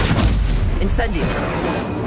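Booming spell blasts and fiery bursts from Hogwarts Legacy spells like Confringo and Incendium erupt in quick succession, loud and punchy, over busy game effects.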